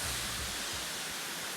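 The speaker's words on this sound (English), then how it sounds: "this is actually my first waterfall" A waterfall roars as a steady, dense rush of broadband noise, loud and unbroken with no voices over it.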